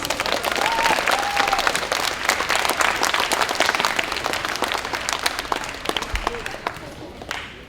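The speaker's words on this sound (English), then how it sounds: "So 5th graders, can you give them a round of applause?" Fifth graders clap in a sustained round of applause at a moving-up ceremony, a dense steady patter of many hands filling the room and tapering slightly toward the end, with a voice or two briefly audible beneath.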